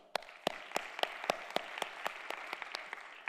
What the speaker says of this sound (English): thank you so much for clapping